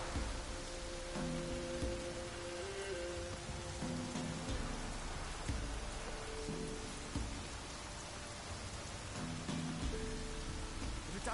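Continuous heavy rain in The Witcher video game, a broad unbroken wash of falling drops with occasional crisp splats, layered over soft low sustained musical tones that rise and fall in the background.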